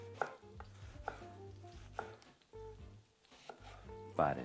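A knife chops an onion on a cutting board in a handful of sharp, evenly spaced strokes, close by, with faint kitchen sounds between cuts.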